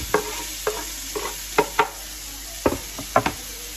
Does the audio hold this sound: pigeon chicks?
no